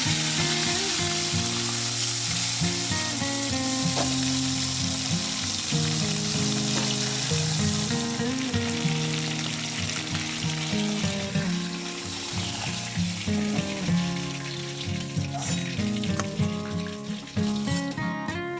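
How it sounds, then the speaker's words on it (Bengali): Tilapia fish coated in salt and turmeric frying in hot oil, a loud, steady sizzle running continuously throughout with music playing over it. "মাছগুলোকে প্রথমে নুন হলুদ দিয়ে মাখিয়ে ভেজে নিতে হবে"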